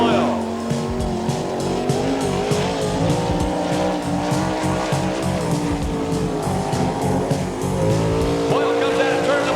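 A sprint car tears around a dirt oval on a time trial lap at an All Star Circuit of Champions event at Eagle, Nebraska, its engine roaring loud and steady with rising and falling revs.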